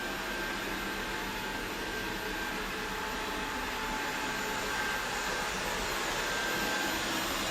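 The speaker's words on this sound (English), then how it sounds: "for a vacuum cleaner, it's moderately quiet" A Tesvor X500 robot vacuum cleaner hums and whooshes steadily at close range, a continuous airy drone with no pauses or speech.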